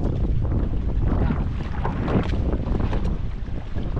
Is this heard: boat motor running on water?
yes